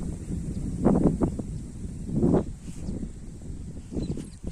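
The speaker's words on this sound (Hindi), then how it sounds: "लेकिन हवा बहुत ठंडी चल रही है" Wind blows in uneven gusts, rumbling and buffeting against the microphone in several low surges.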